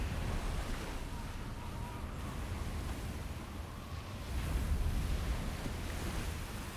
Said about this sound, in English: Oh, the waves picked up.